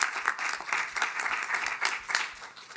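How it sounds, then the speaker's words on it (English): Lively applause from the audience at a university convocation meeting, many hands clapping in a busy, uneven patter with slight swells, fairly close and loud. "Can we give them a rapturous round of applause?"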